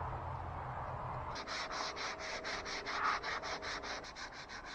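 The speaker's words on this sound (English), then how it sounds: "I just finished sanding out the filler we put on here" Rhythmic back-and-forth sanding of body filler on a K5 Blazer, a steady series of rasping strokes starting after a quiet moment, close and moderately loud with no talking.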